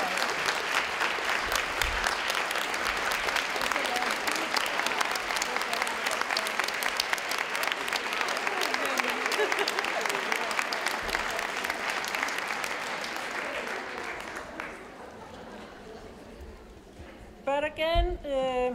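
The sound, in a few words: audience applause for the organizers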